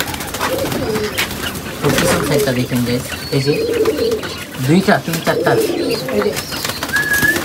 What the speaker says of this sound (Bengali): দেখেন কবুতরগুলো পাগল করে ফেলতেছে খাওয়ানোর জন্য